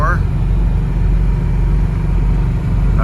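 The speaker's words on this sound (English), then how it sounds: "taking you for a ride in our Laguna S3 454" Cabin sound of a 1974 Chevrolet Malibu Laguna S3 with a 454 V8 cruising at around 3,000 rpm, a loud, steady low engine drone with road rumble, a voice briefly at the start.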